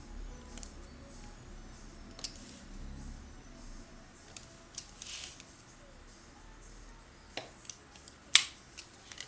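Scissors snip a small piece out of a sheet of card in quiet, irregular cuts, with one sharper clip near the end, set against a faint low hum.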